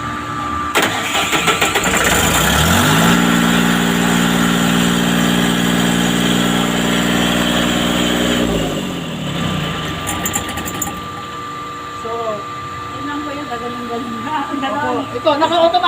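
A jockey pump on a fire-protection system, set to cut in at 80 PSI and cut off at 100 PSI, starts with a rising whine and runs steadily and loudly before winding down.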